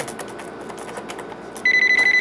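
A telephone starts ringing partway through with a rapid, loud electronic trill after a stretch of clattering background activity.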